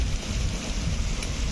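Monsoon rain pours onto the open water of a reservoir in a dense, continuous hissing patter. The sound stays steady and fairly close, with no voices.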